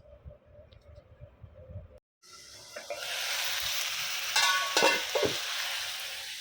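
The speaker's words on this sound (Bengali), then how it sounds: "অলরেডি কলা ভাজিটা বসায় দিচ্ছি" Banana fritters fry in a pan, a quiet stretch giving way to a sudden steady sizzle with sharper crackles and spits, close and fairly loud.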